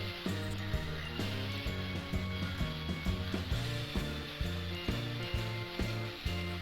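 A flap sanding wheel grinds against a leaf spring steel knife blank in a rough, whirring, rhythmic drone that pulses as the blade is pressed and shifted, loud and close with no talking.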